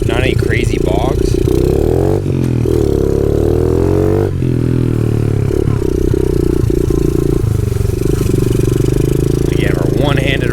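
Honda CRF 50 dirt bike with a big bore kit and undersized carb, ridden in second gear, its engine droning and revving steadily and close throughout, with talk running over it.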